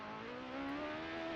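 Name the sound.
sim racing car pulling out of the pits, from a video game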